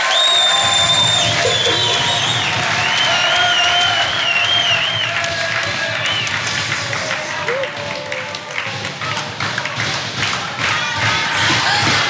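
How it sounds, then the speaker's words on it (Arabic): Studio audience at a television talk show breaking into sustained applause with cheering, dense and loud throughout, with a few voices calling out over the clapping. "أعطونا تصفيق."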